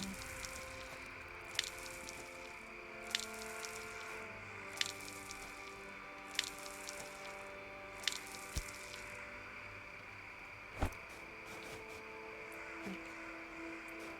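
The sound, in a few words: watering crops in the video game Mirthwood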